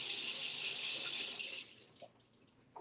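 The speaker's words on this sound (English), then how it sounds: "I think I forgot to rinse these." Vegetables being rinsed under a running kitchen tap for breakfast burrito prep, a loud steady stream of water that cuts off after about a second and a half, leaving a few drips and small clinks.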